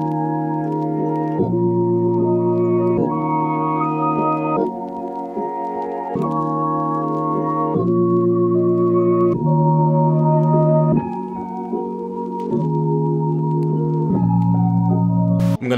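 Ambient trap melody sample built in FL Studio, sustained synth chords changing every couple of seconds over a steady low bass, loud and clear throughout with no voices.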